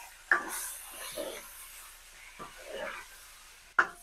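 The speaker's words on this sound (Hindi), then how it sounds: "देखिए, चिकन को हम अच्छी तरह फ्राई करेंगे" Chicken, about a kilo, being fried and stirred in a pan over a high flame, with a soft sizzle and a few sharp scrapes of the spoon against the metal, two of them louder, then quieter rustling stirs in between.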